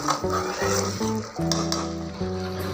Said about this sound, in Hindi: इसके अच्छे तरीके से बुनाई करेंगे ग्रेवी की